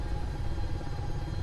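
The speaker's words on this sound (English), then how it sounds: "Now we'll kick those engines forward for power." Tiltrotor aircraft engines in Kerbal Space Program throttle up into a steady, loud, low rumbling drone that continues without a break.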